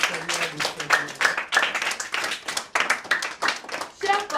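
A congregation at a French-language Christian gathering claps hard and continuously, with scattered cheers, to acclaim God. Loud, dense applause fills the room with dozens of overlapping close hand claps.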